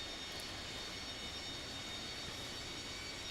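Airliner taxiing in the X-Plane 11 flight simulator at Dublin, a steady, faint engine hum and broadband rumble with no talking.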